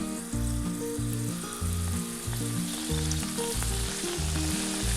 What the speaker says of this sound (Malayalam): ഇതിലേക്ക് നമ്മൾ ഉണ്ടാക്കി വെച്ചിരിക്കുന്ന നുറുക്ക് ഇട്ട് കൊടുക്കാം